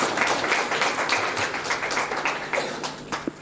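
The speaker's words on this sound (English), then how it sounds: "A round of applause for that statement." Conference audience applauding a statement at a stakeholders' conference commemorating the Day of the African Child, a steady dense patter of many hands clapping throughout, fairly distant and even.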